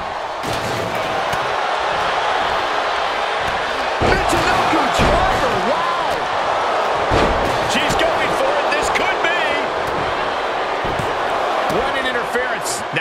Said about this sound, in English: Ripcord drop kick.